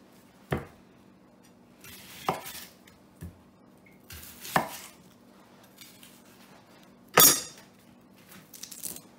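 An onion is cut up with a knife: a handful of sharp, separate chops spaced irregularly over several seconds, fairly quiet and close, with near silence between strokes and no talking.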